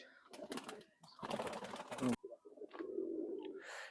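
Soft coos of rare old-breed Naktana pigeons rise and fall close by, broken by a few bursts of rustling noise.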